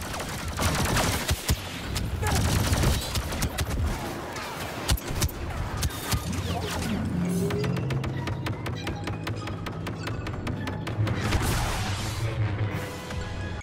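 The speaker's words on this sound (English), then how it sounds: "There's literally a Count Dooku and like half of his team just shooting at me" Blaster fire rattles almost nonstop in a Star Wars Battlefront 2 multiplayer match, with dense overlapping bursts and shots, some close and loud, some distant, plus occasional thuds and impacts.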